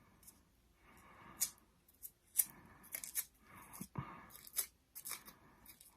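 Scissors curl strips of paper into pine cone petals for a papercraft, giving repeated close, crisp rasping strokes and sharp snips in an irregular rhythm, with no voices.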